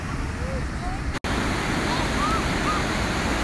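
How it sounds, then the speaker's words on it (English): Good-sized ocean waves washing onto Daytona Beach, a steady broad surf roar close by with a brief cutout partway through, a few faint bird calls over it and no speech. "we are right at the ocean here at Daytona. It's pretty good sized waves"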